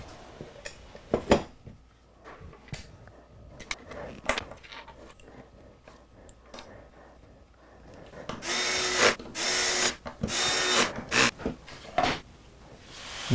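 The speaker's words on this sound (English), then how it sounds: "Finally, I'll screw on the router base to complete the assembly." Screws are driven to fasten a router base onto a wooden workshop assembly, heard as scattered knocks and clicks followed by a louder stretch of close, gritty driving and rubbing bursts.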